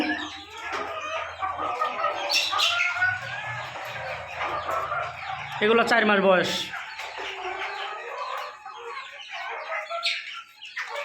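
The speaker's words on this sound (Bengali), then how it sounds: "এগুলো ওয়েন্ডোর মুরগি।" Four-month-old Wyandotte chickens cluck and call close by at a poultry farm, with bird sounds running through the clip while someone talks over them.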